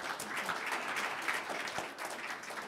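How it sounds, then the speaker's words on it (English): An audience at an academic roundtable applauds a presenter, a steady patter of many hands clapping at moderate volume for a few seconds. "join me in a round of applause for our presenter, Dr. Campbell."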